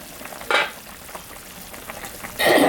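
Fish curry broth with bottle gourd bubbling in a pot on the stove, a low steady simmer broken by two loud sizzling surges, one brief and one sustained at the end.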